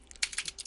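Quick bursts of typing on a computer keyboard, a rapid run of light plastic key clicks close to the microphone, brief and unaccompanied by speech.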